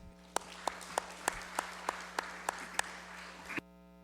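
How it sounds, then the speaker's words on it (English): Sparse, slow clapping in a legislative session chamber: about ten distinct claps at a regular beat over a steady background hum, stopping abruptly near the end. "a round of applause."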